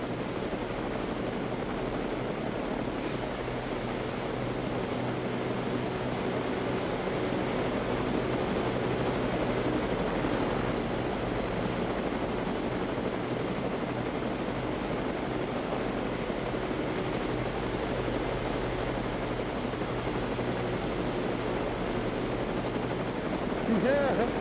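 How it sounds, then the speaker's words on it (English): Helicopters drone steadily for the whole stretch, a sustained broad rotor rumble that swells slightly in the middle, with no clear speech. "How many helicopters is this?"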